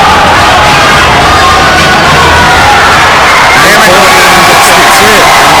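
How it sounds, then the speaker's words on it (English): Loud, dense crowd roar filling an indoor high school basketball arena at tip-off, with cheers and shouts swelling continuously throughout. "Crowd is loud."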